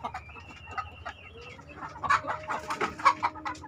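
Chickens at a poultry farm cluck and squawk close by, the calls overlapping and growing busier and louder toward the end, with no speech.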